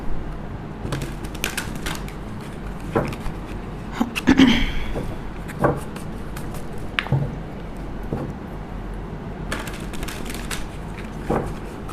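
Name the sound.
shuffling a heavy deck of large tarot cards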